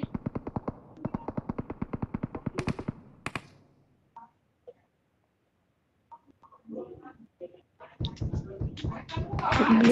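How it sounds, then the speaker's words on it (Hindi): SLR rifle gunfire in BGMI comes as a rapid, evenly spaced string of about fifteen loud cracks over three seconds. Scattered faint shots follow, then a voice talks. "SLR मार रहा"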